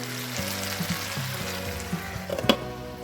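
Okra and tomato cook in a pan for sambar, a soft steady simmer and sizzle with light stirring clinks near the end, while a faint musical tone runs underneath.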